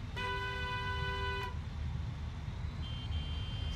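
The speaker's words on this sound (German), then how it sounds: "Er hat zurückgehupt." A bus horn in Bus Simulator sounds one short, loud toot over a steady low engine rumble, followed by a fainter distant answering honk.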